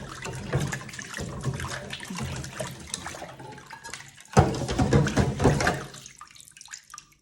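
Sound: rinsing dishes under running water

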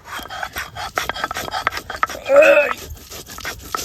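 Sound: grinding spices with chilli and cumin on a grinding stone

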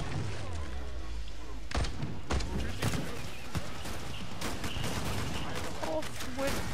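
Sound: gunfire in video game Killing Floor 2

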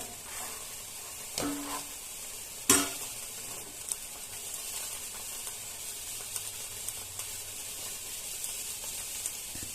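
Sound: Mughlai paratha frying in a pan

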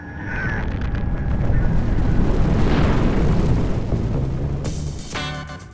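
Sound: nuclear test detonation explosion at Amchitka

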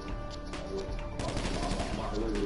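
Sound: gunshots in roleplay video game

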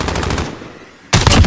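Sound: enemy sentry gun firing in a video game

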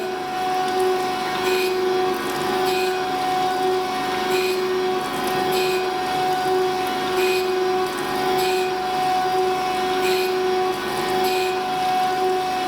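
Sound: grinding spindle taper

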